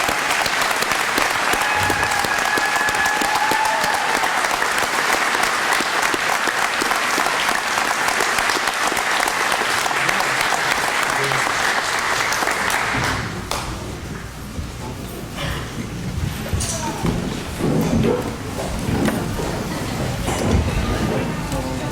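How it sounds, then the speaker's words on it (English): Audience applause for a retired deputy, loud, sustained clapping from a crowd that carries on for many seconds, then thins into scattered claps and room noise. "Can we give him another round of applause, please?"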